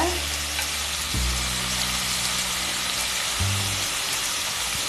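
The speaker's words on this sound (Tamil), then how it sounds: "உருளைக்கிழங்கு சேர்த்துட்டு நல்லா வதக்கி விட்டுக்கலாங்க." Potatoes frying in a pan of hot oil for an Indian-style potato fry side dish, a steady close sizzle with soft stirring scrapes and low hum throughout, no talking.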